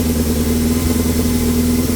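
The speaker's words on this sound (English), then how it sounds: "the engine was only idling very slow, so I raised the idle just to bring the voltage up." A Kawasaki Z650 motorcycle engine idles steadily with its idle raised, a loud, even mid-range hum and throb holding constant throughout with no talking.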